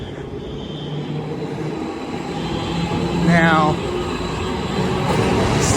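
A train rolls past on a city street in Ybor City, Tampa, Florida, a broad, steady rumble that swells slightly. It is heard outdoors amid daytime street noise, and someone speaks a word over it.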